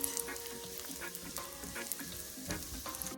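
Lamb lollipops fry steadily in a hot pan with thyme and rosemary, giving a continuous close sizzle and crackle with scattered sharper pops throughout.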